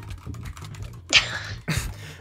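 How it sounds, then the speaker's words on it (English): Computer keyboard keys and a mouse clatter in quick, uneven taps during a sword-dueling video game match, with a couple of sharper, louder bursts partway through and no talking. "I really hope that the viewers can hear your keyboard and like your mouse clattering"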